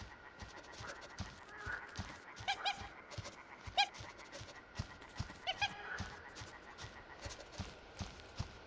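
A dog sniffs in a video game, with quick snuffling and panting bursts and soft scratchy, footstep-like taps over steady low background noise, fairly quiet throughout.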